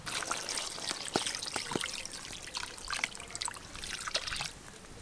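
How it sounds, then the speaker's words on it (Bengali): Water splashes and trickles steadily into a pan of browned mutton curry, a soft continuous pour with small gurgles, fairly quiet and close, with no voices. "এবার আমি পরিমাণ মতো জল দেব।"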